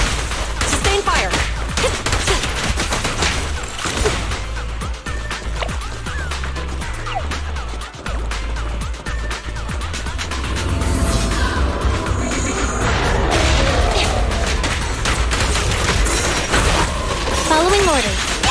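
Sustained gunfire and crashing combat effects from the Zenless Zone Zero video game fill the scene loudly and continuously, with sharp bursts and impacts layered under spoken voices.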